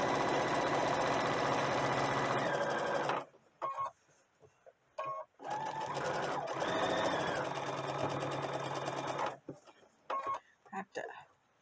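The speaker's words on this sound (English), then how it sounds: "I've changed my thread over to white thread. And I'm going to sew." A sewing machine stitches doll clothes in white thread, running in several bursts of fast, steady whirring with short pauses between.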